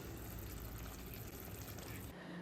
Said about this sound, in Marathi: मी तर ताक घालते